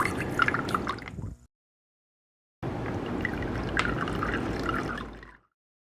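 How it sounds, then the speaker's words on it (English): Vinegar is poured into a container of eggs in two close, steady bursts of splashing liquid separated by a short silence. "And let's put new vinegar in."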